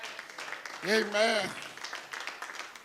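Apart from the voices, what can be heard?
congregation hand clapping in church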